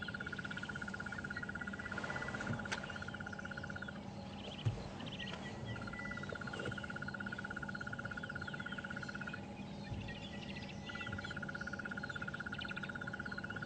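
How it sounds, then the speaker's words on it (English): Crested barbets call in the African bush at sunrise, a steady trilling run that repeats in long bursts with short gaps, set against a dense, moderately distant chorus of other birds and insects. "Crested barbets also calling."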